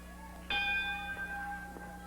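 A wrestling ring bell in Memphis is struck once to open a match between Jerry Lawler and Hart, giving a single bright clang whose metallic ring hangs and fades over the next second or so, with faint crowd noise and a couple of soft knocks after.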